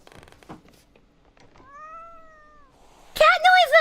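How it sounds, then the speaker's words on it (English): A cat meows in a video game, a thin, drawn-out mew followed by a louder, sharper, wavering meow up close, with sparse background game sounds before it. "Cat noises!"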